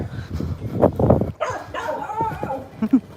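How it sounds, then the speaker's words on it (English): Dog barks come in short bursts from a neighborhood lane in Bali during an evening walk, at moderate distance, with a few yips and whimpery notes mixed in over light background noise. "That dog's still barking at me."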